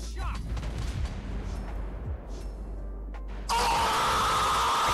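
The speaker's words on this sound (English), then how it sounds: "those bombs are just fucking insane, bro" Heavy in-game bomb blasts boom and rumble through a chaotic firefight, with layered explosions and crackling debris before a sudden loud, sustained roar swells up near the end.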